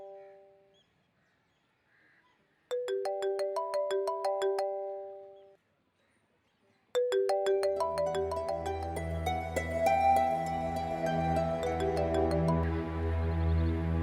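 A phone ringtone plays a bright, tinkling melody in repeated bursts, pausing briefly, then resuming louder and fuller with a deep bass line underneath.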